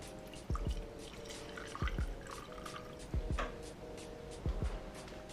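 Distinct drips of thick coffee falling at slow, regular intervals, roughly four heavy drops, over a faint steady trickle and hum in the background.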